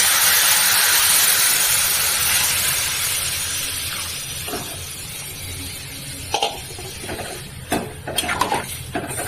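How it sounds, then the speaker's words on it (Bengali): Hot water poured into a jackfruit curry (gachh pantha jhol) that is frying in a pan. A loud, steady hissing rush starts at once and fades gradually, and a few sharp clinks from the pot follow near the end. "গরম জলটা দিয়ে দিচ্ছি।"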